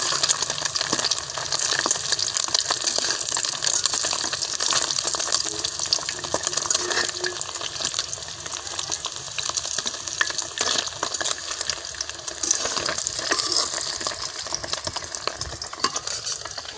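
Egg frying in a pan with continuous sizzling and stirring scrapes, loud and steady with a watery hiss throughout.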